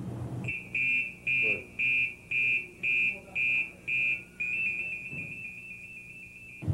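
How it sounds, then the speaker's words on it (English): Firefighter PASS device alarm sounding in an old FDNY basic training setting: a loud, shrill electronic tone pulsing in eight evenly spaced beeps, then holding as one steady continuous tone, with faint background noise. "Any member who hears a pass alarm in full alarm for 10 seconds is to notify the officer in command and investigate"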